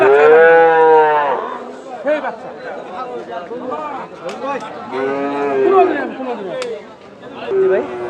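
Several cattle moo loudly and repeatedly at a cattle market in Panchagarh, Bangladesh, long drawn-out lowing calls overlapping, with people talking and a crowd murmuring nearby.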